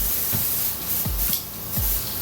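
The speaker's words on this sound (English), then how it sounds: "now I'm going to spray." Short bursts of airbrush spray hiss repeat a few times against a steady background hiss, each burst brief and close, applying makeup.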